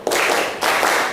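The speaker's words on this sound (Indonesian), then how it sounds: "Tepuk 2 tepuk 3 yes" Classroom students clapping together in a rhythmic cheer pattern at a vocational high school, two dense bursts of close, loud claps separated by a brief pause.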